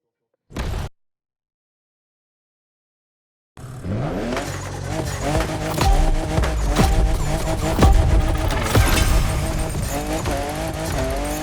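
A car drifting in The Crew Motorfest racing game: after a short burst and a few seconds of silence, a loud revving engine and sustained tire squeal roar continuously and close, rising and falling in pitch as the car slides.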